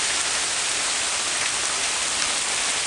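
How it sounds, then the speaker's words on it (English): A hailstorm pelts the ground in a dense, steady roar of countless tiny impacts, loud and continuous with no voices. "This is a hailstorm."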